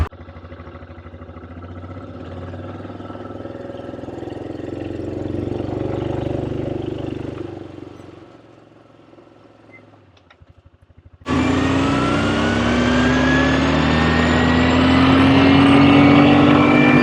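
A Yamaha Rhino UTV engine idles with a low rumble, dips nearly quiet, then jumps into a loud, steady revving drone as the machine is put in gear, close by.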